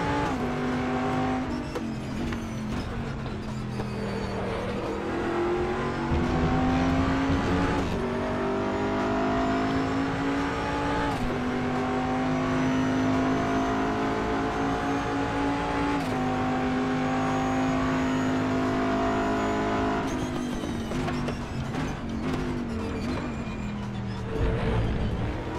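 A Daytona prototype race car in the RaceRoom racing game holds a steady, loud engine note for a long stretch, with pitch climbing through gears and dipping at upshifts and braking.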